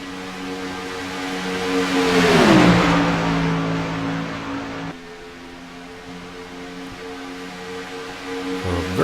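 Race car engines roar past during a racing event, a rising and falling revving pass that swells loud near the middle and fades, followed by steady engine drone and another approaching car at the end.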